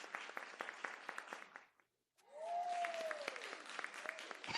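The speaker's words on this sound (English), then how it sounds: "Can we please give him a round of applause?" An audience applauds to welcome a guest, affordable housing organizer Will Lawrence, with steady dense clapping that breaks off briefly and then resumes; a short whistle-like tone sounds within the second burst.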